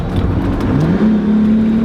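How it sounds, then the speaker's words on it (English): The engine of a supercharged Jeep Wrangler SEMA build runs close and loud, with a steady whine that climbs in pitch and then holds as the revs build. "Can you hear the supercharger?"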